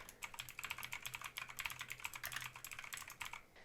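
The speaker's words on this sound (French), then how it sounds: "Donc je suis toujours en train de parler et d'écrire au clavier." Rapid typing on a computer keyboard, recorded through a Modmic Wireless microphone in omnidirectional mode, produces a steady, dense patter of close, crisp key clicks with a faint low hum beneath.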